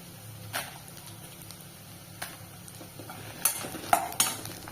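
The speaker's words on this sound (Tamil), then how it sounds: "இப்ப இது கூட ஒரு ஏழு வரமிளகாய் சேர்த்துக்கிறேன்" Seven dried red chillies sauté in a pan with a faint low sizzle, broken by a few spoon scrapes and clinks against the metal that get busier toward the end.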